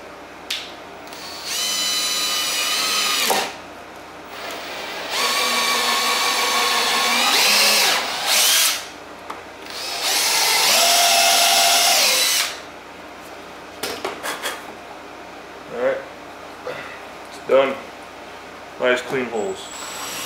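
A high-speed steel drill bit bores holes in plastic, with several long, loud whining bursts of the power drill spinning up and cutting, separated by pauses and followed by short clicks and handling noises.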